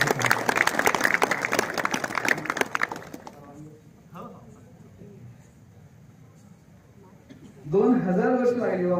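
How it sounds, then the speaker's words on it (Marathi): Audience applause at a Marathi talk on the Indian Constitution, with dense clapping for about three seconds, then quieter room noise with faint talk, and a voice speaking again near the end. "आपण टाळ्या वाजवून"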